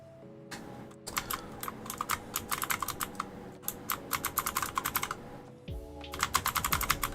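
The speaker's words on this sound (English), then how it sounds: "that's my clickety clackety tap revolution keyboard" Fingers type on a clicky mechanical keyboard in rapid bursts of sharp keystrokes, close and crisp, with short pauses between the runs.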